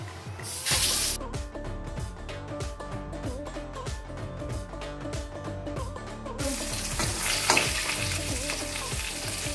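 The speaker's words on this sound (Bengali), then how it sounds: "তেলটা গরম হয়ে গেছে, মাছগুলো ছেড়ে দিচ্ছি।" Steady loud sizzling of fish frying in hot oil, crackling continuously throughout with occasional stirring clinks, no voices.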